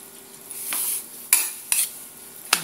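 Pork and vegetables are stirred in a pan with a soft sizzle underneath. A utensil scrapes and clinks against the pan in three or four sharp strokes over a few seconds.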